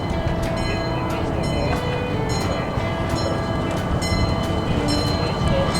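A miniature train at Griffith Park, Los Angeles, runs along with a steady mechanical rumble and repeated sharp clacks and squeaks, with faint background voices.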